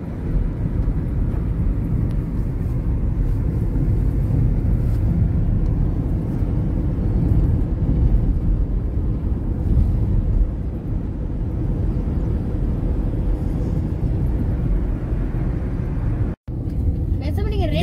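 A car drives along a road toward Jog Falls with a continuous low rumble of engine and tyre noise heard from inside, steady and loud, cutting out briefly near the end, while people talk over it.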